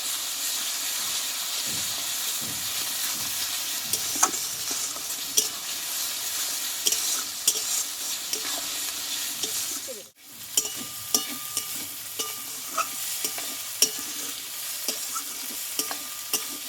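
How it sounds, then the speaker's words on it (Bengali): Spice paste and dried chilli paste fry for a mutton dish with a constant close sizzle and hiss. Regular spatula scrapes and taps run through it, briefly pausing midway, and there is no talking. "শুকনো লঙ্কা বাটা এই মশলাটাকে ভালোভাবে কষিয়ে নেবো"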